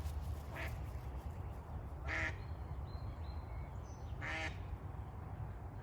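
Family of ducks quacking outdoors, three separate short quacks spaced a couple of seconds apart, faint and somewhat distant over steady low background rumble.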